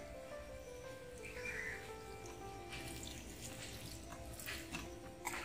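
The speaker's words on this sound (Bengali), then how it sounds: "এখন আমি একটু জল দিয়ে দেবো" Water being poured onto a guava tree, a steady soft splashing and trickling that goes on without a break, faint and close, with no talking.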